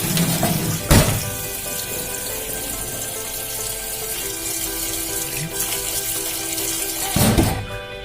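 First boiling water drained off gizzards and chicken feet into a sink: a steady, loud rush of pouring water with a sharp thunk near the start and another near the end.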